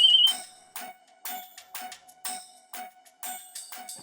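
A mobile phone ringtone signalling an incoming call: a repeating electronic melody of short bright pulses with a steady rhythm, fairly quiet and heard alone.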